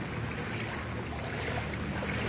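Strong cyclone wind during Cyclone Michaung in flooded Chennai: a dense, steady roar of gusting wind buffeting the microphone, with a wash like moving water beneath, continuous and fairly faint, with no voices.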